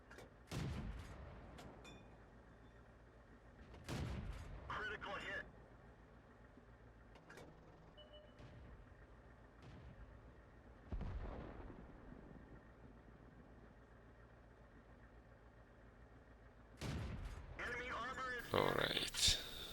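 Tank cannon fire in World of Tanks, a T40 in gameplay: several sharp, heavy booms at intervals, some close together, over a quiet background with faint engine hum.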